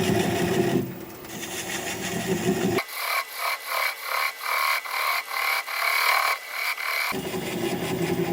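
A heavy, slightly unbalanced wooden piece turns slowly on a wood lathe at about 400 RPM. Close rhythmic rubbing and scraping pulses repeat about once per rotation, set against the machine's steady running hum.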